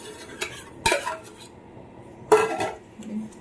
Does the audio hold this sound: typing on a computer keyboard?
no